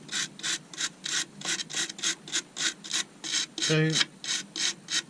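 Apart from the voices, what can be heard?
stainless steel brush scrubbing bark off walnut bowl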